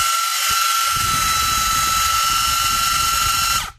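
A small vintage electric drill whines at a high, steady pitch for a few seconds, starting up after a brief click and cutting off at the end.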